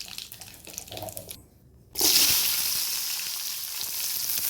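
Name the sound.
cumin seeds frying in oil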